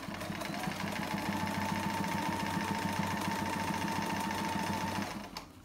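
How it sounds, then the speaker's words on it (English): A sewing machine runs a reverse stitch on a chair pouch at a fast, steady chattering pace, motor humming under the rapid needle beats before it slows and stops at the end. "Okay, reverse stitch."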